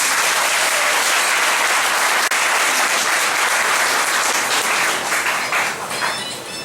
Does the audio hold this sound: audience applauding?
yes